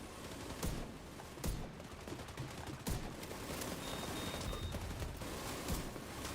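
An enemy faction lays down heavy gunfire in The Division 2, dense continuous crackling shots punctuated by sharper sudden bangs, fairly loud and filling the scene without speech.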